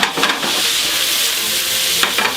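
Eggs beaten for a Spanish omelette, a loud close rush of rapid whisking with brief sharper scrapes at the start and end of the short burst.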